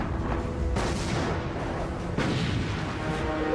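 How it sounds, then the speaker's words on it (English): Heavy naval gunfire from the German battleship Bismarck and heavy cruiser Prinz Eugen exchanging salvos with HMS Hood and Prince of Wales: dense, continuous rumbling booms with two sharp, loud reports rising out of the din. "the German battleship Bismarck and heavy cruiser Prinz Eugen, exchange fire with the pride of the British Navy, HMS Hood and Prince of Wales"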